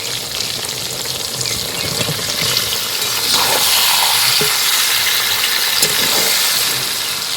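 Mango pieces for a sweet mango jelly pickle sizzle and fry steadily in a pan, a continuous loud crackling hiss that swells midway with a few soft stirring knocks, no voices.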